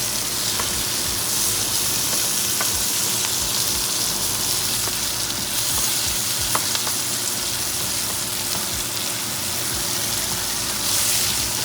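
Bison sirloin steak frying in butter and bison fat in a cast iron pan, a steady, close, crackling sizzle that runs continuously with small pops and spatters throughout.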